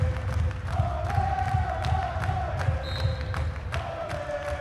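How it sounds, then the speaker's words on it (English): Crowd at a women's college basketball game cheers and murmurs steadily through an indoor gym, with sneaker squeaks and ball bounces cutting in over the constant din. "Good to hear the crowd involved tonight as well."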